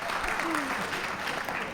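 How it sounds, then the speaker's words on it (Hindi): An audience at a stand-up comedy show breaks into applause, a dense wash of clapping that carries on steadily with a voice talking over it. "तालियां अगली लाइन में थी कि आप बड़े जल्दी बजा देते हो।"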